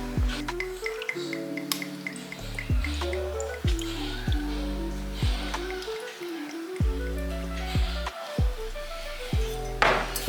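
Tequila alternative drink being poured, heard as a rhythmic series of glugging drips and liquid plops with rising pitch as the glass fills, close and fairly loud.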